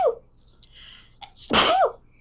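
One loud, sharp sneeze up close after a moment of faint quiet rustling and a soft breath.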